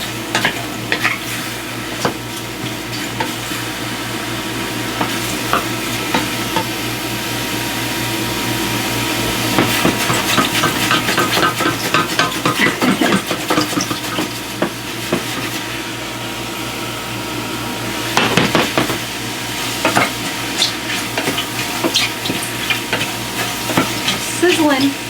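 Steady frying sizzle of BBQ chicken and cheesy potatoes in a pan, with scraping and stirring clatter throughout, a few louder bursts partway, and a faint voice in the background.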